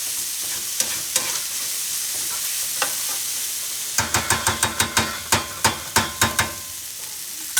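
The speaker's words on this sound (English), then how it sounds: "you have to tap that pot, tap it, and make sure you get everything from off around the side." A spoon taps the rim and sides of a pot of stuffed peppers while food sizzles underneath. A few scattered knocks come first, then a quick run of about a dozen loud, close taps. No one speaks.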